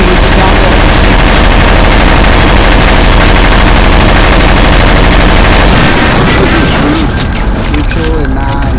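Rapid gunfire in a Counter-Strike: Source zombie escape round, a dense, loud stream of shots and explosions filling the clip before thinning into scattered bursts near the end.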